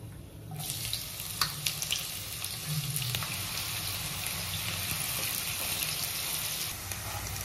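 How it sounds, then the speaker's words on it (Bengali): Onions frying in white oil in a pan for a vegetable pulao, a steady broad sizzle that holds from start to finish with a few scattered crackles, close and even, no voices. "পেঁয়াজটাকে আমি কিছুক্ষণ ভেজে নিয়েছি।"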